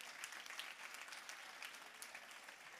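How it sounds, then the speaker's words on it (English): Conference audience applause at a real estate keynote event, faint and distant but continuous, with many hands clapping in a steady wash of sharp claps. "can we give a giant round of applause to New World Title for setting this up?"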